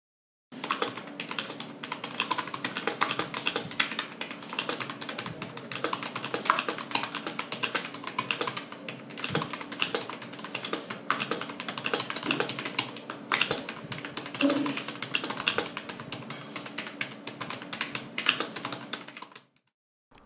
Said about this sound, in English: just take your time and listen to the keystroke sounds.